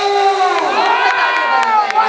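A crowd cheers and shouts with excited voices at the Vyasa Sarovar Mahotsav, a festival stage show with an award ceremony. The noise stays loud and continuous throughout.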